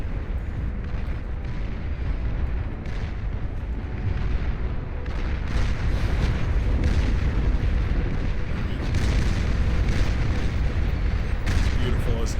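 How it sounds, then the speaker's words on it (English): A Cerberus cannon fires in a large 8v8 battle in the video game Beyond All Reason, sending heavy booms and rumbling blasts through a continuous roar of artillery and explosions. A commentator talks over the din. "There's our Cerberus cannon, by the way."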